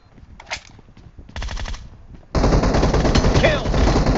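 Machine gun fire in a shooting video game: a few short bursts at first, then a long sustained loud volley of rapid shots up close, with no talk.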